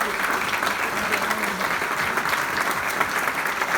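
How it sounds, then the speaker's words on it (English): Steady, dense audience applause fills a room after a film screening Q&A at a festival in Schull, with sustained clapping from many hands throughout and no break. "Can we get a round of applause?"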